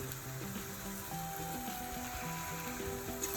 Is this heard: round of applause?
no